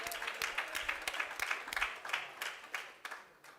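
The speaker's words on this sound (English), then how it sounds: "Can we have a big round of applause for today?" An audience at a university gate portal launch applauds in scattered, uneven claps that rise and fall in bursts, fairly faint and distant.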